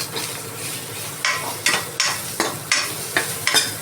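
Tomatoes frying in a pot for avarekalu sambar, a steady sizzle under repeated close scrapes of a spoon stirring every half second or so, with no voices.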